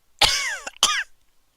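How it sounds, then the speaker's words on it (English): Two sharp coughs from one person close up, the first longer and rougher, the second following quickly after a brief gap, then silence. "Sorry, coughing."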